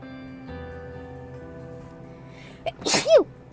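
A quiet hum, then a short sharp intake followed by a loud, explosive sneeze near the end.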